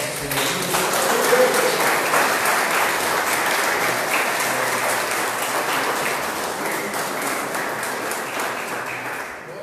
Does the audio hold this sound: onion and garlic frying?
no